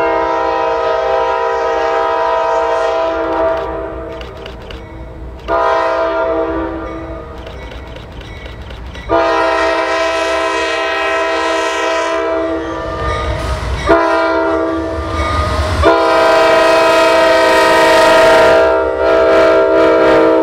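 Norfolk Southern locomotives pass in Atlanta and Austell, Georgia, blowing loud, chordal horn blasts in several long sounds separated by brief gaps, over the low rumble and clatter of the rolling train.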